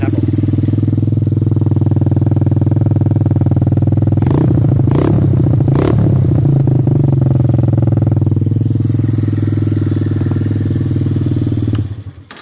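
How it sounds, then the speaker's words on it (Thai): The exhaust of a 150cc ATV with 12-inch wheels runs steadily right after starting, a loud, close, even engine drone with a brief burst of clattery revving partway through before it cuts off. "ฟังเสียงท่อไอเสียนะครับผม"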